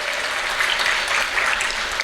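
A conference audience claps steadily, dense applause filling the room without pause.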